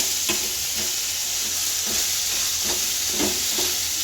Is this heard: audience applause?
no